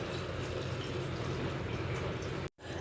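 Water poured into a pot of pav bhaji, a steady close rushing splash that runs unbroken and cuts off abruptly near the end.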